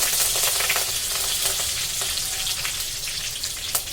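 Mustard seeds, cumin and curry leaves crackle and sizzle in hot oil in a pan over the stove, with a steady dense hiss and scattered sharp pops throughout, loud and close with no talking.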